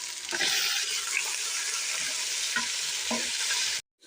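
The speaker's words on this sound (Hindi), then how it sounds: "अब हम इसमें बीफ भून लेंगे" Steady loud sizzle of beef frying in a hot pan with ginger and garlic, with occasional stirring scrapes, cutting off abruptly near the end.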